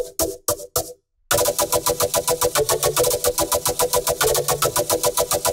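A color bass drop with a layered chord bass synth, opening with a few stuttered hits and a short silence, then slamming into a loud, rhythmic, pulsing wall of gated synth chords over steady drums.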